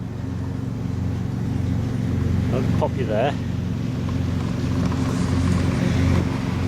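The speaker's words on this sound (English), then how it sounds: "Sorry about the noise, but the landowner's out cutting the grass." A steady low engine drone from a lawn mower cutting grass on an allotment runs throughout, with someone speaking briefly over it close by.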